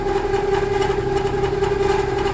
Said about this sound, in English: I'm not sure if you can hear that or hear me over the squalling condenser fan motor